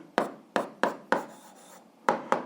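Pen strokes on paper while writing out an answer to an algebra exercise, six short scratchy bursts at an uneven rhythm, close and fairly quiet, with a brief pause in the middle.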